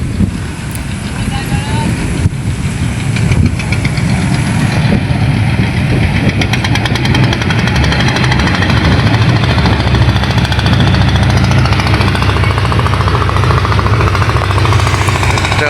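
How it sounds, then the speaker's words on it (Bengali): A fishing trawler engine on the Padma river chugs loudly and continuously with a rough, knocking diesel rumble, close and steady throughout. "মাছ ধরার ট্রলার"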